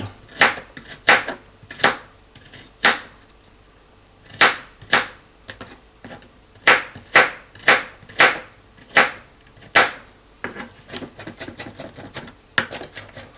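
A series of sharp, rapid clicking and slapping strikes in uneven bursts as a seafood sauce for steamed lime shrimp is mixed by hand, like a utensil beating against a bowl, close and fairly loud with no talk.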